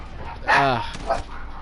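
Dogs at home give a short burst of barking and yipping, a loud harmonic bark followed by a fainter second yelp over steady background noise.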